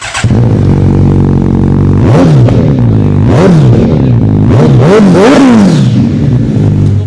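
A 2021 BS6 Kawasaki Ninja 1000 fitted with an Arrow full exhaust system idles loudly close by, then is revved in several sharp blips, pitch sweeping up and falling back each time.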